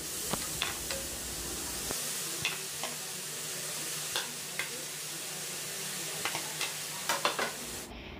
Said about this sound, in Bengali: সমস্ত গ্রেট করা পটল আর আলুটাকে একদম ঝাঁকানাকা করে মানে ঝটপট করে কড়াইতে দিয়ে দিলাম।